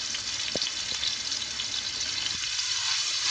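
Onions sizzling steadily in oil with salt in a pan for chana pulao, a loud continuous hiss with a faint clink or two, close by and without talk.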